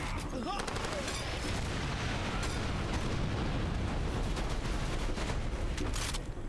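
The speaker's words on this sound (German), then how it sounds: "Hat er gerade eine Explosion abgefangen, der Truck?" Continuous booming blasts and rumbling gunfire from Far Cry 2, dense and loud throughout, with chaotic explosive bursts layered over one another.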